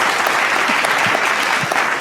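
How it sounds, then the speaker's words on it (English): A large audience at an awards ceremony applauds an honoree, a loud, dense and continuous wash of clapping heard up close with no voices. "Many, many congratulations, ma'am, and a huge round of applause."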